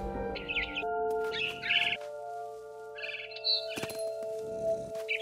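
A bird in What Remains of Edith Finch chirps in short bursts of bright tweets, several separate calls spaced irregularly over a steady ambient game hum, with a sharp crack partway through.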